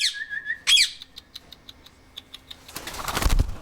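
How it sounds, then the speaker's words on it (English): African ringneck and Senegal parrots give sharp squawks and a run of short repeated chirps, followed by a louder burst of rustling or flapping wings near the end. "which is the African ringnecks and the Senegal parrots"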